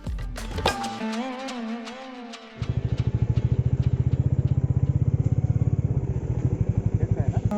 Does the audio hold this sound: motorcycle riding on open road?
yes